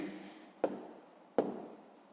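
Pen writing by hand on paper during a sixth-grade maths exercise, two short scratchy strokes each starting with a tap and trailing off, close and quiet.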